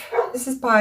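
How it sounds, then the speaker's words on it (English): A neighbour's dog barks and yips in short bursts nearby, its voice mixed in with someone talking over it. "that's my neighbour's dog"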